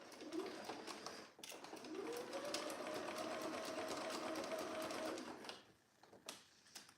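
A sewing machine runs in one continuous close whirring burst for several seconds, stitching a jacket just beside the zip teeth, with brief handling clicks before and after.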